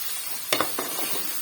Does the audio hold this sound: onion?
yes